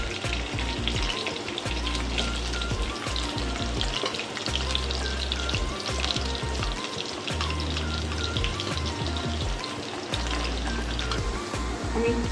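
Potato pieces frying in hot oil alongside other hard vegetables for a Bengali vegetarian curry, giving a steady, close crackling sizzle with popping spatters throughout, plus some low thumps from the pan.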